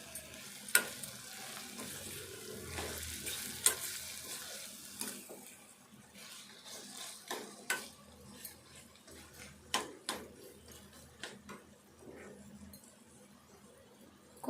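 Carrot tomato curry cooking in a pan after coriander powder goes in, a low bubbling simmer broken by repeated sharp scrapes and taps of a spoon stirring against the pan.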